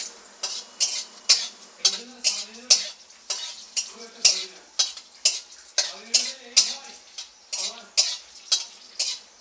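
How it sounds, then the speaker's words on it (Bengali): Five or six dried red chillies frying in hot oil for a chalta and amra chutney, with a loud, rhythmic series of spatula scrapes and clinks against the pan over a faint sizzle. "তেলটা গরম হয়ে গেলে আমি শুকনো লঙ্কা দিয়ে দিচ্ছি"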